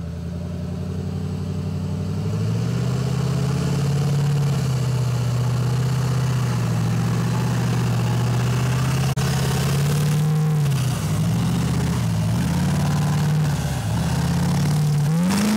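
A salvaged Duramax diesel in an M35 deuce-and-a-half mud truck rumbles close by, a heavy idle that swells into revs and dips, then climbs again with a throaty drone.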